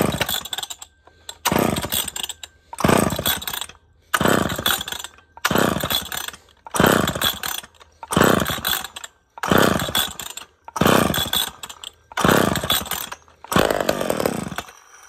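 A vintage McCulloch or Homelite chainsaw engine pops and fires in eleven short, evenly spaced loud bursts, each a second or so of raspy two-stroke running with brief silences between.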